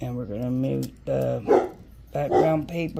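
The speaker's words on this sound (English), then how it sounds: "I do apologize for the dogs" Dogs barking, including a puppy, in short loud yaps and barks close by, several bursts spread through the clip while a person talks over them.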